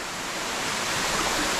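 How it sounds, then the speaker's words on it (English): A jungle waterfall in Thailand pours with a dense, steady hiss of crashing water, loud and close, unbroken and alone with no voices. "But look at that waterfall."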